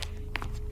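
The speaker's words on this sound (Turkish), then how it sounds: "Bu ayak sesi geliyor." Footsteps in a Roblox prison escape obby game: a few brief soft thuds over a steady electronic background hum, short and close.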